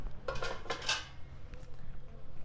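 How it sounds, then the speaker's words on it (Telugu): A steel bowl holding a moong dal and foxtail millet mixture is set into a pressure cooker and covered with a lid, giving several close metallic clinks and clatters in quick succession, then quieter knocks. "పెసరపప్పు కొర్రల మిశ్రమాన్ని ఇందులో పెట్టేసుకొని ఒక మూత పెట్టుకోవాలి."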